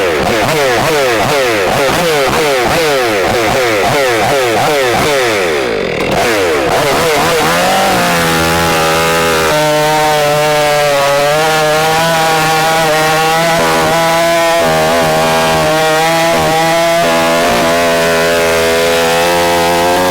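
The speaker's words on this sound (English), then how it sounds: "So now we can fire up the saw" A chainsaw roars close and loud, its pitch sweeping up and down in rapid revving bursts, then settles into a steady, labouring drone as it bites through wood, near an excavator in hot outdoor conditions.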